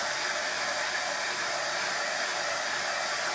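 A hair dryer blows continuously at close range, drying Fusion Mineral Paint on a decoupage napkin art project, a steady loud rush of air from start to finish with no voices.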